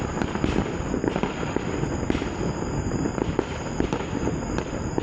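Fireworks bursting outdoors in a steady, crackling barrage of dense pops and booms, with repeated sharp bangs throughout and no break.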